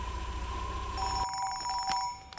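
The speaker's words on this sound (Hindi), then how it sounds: "फोन आ गया" A telephone rings with a steady electronic trill, shifting to a higher-pitched ring partway through, fairly close and clear.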